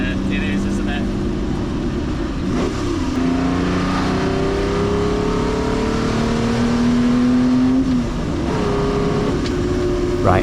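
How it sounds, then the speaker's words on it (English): A Ferrari 250 SWB Revival by GTO Engineering with a Colombo V12 revs on the move, its rising and falling engine note loud and close throughout with gear-change dips, under a continuous cabin and road roar. "let you enjoy that engine for a couple of minutes"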